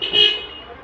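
A digital multimeter set to continuity mode beeps while probing a laptop motherboard for shorts, giving one steady high-pitched tone just under a second long, loud and close.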